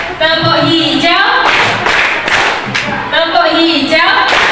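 Hands clap in a colour clapping game, a few sharp claps mixed in with children chanting loudly and continuously close by.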